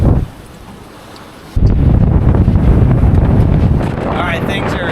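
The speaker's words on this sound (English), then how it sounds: "the gusts are becoming more just like a regular wind" Strong gusty wind batters a sailboat at sea off Hawaii, heavy and roaring after a brief lull, with rushing water and the rustle of rigging. It is loud and close, buffeting the microphone.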